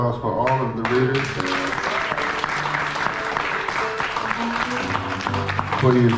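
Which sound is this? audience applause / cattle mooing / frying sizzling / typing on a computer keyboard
audience applause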